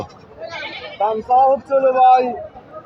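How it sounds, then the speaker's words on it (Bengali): A goat bleats several times up close at a goat market, wavering cries in quick succession, with faint background chatter. "এখানে দেখছি দুটি ছাগল"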